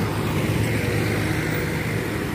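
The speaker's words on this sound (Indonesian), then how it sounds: "Sebuah truk tangki mengalami gagal nanjak ketenggak di jalan langsung ya" A Hino tanker truck's engine labors as it fails to climb a steep hill, a loud continuous low rumble and roar with steady road noise and no pauses.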